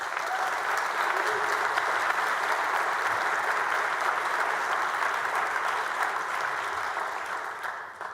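Audience in the Texas Senate chamber applauding, a dense, steady wash of clapping from many hands that holds loud throughout and tapers slightly at the end.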